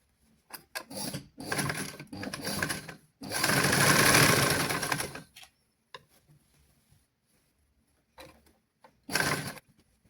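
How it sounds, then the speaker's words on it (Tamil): Sewing machine stitching around the edge of a small child's pant, in several loud runs of rapid mechanical whirring separated by pauses, the longest burst in the middle, with short spurts near the end. "நாங்கள் போய் தைச்சு கொண்டு வருவோம் சுற்றி வர"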